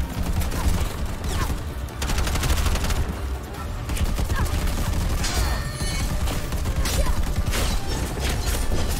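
Shotgun gunfire in the PC video game Bright Memory: Infinite, loud repeated blasts and mechanical clatter filling the whole stretch amid busy game action, with no talk.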